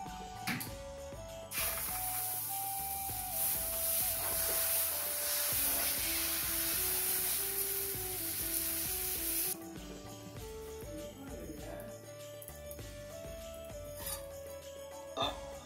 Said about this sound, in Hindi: अभी ये दूसरा डोसा बन रहा है।